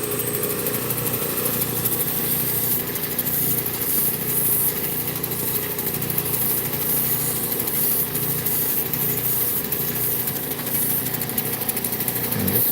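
A low-grit bull wheel grinder runs at high speed shaping an opal stone, a loud steady whirring drone with a gritty grinding texture that holds throughout.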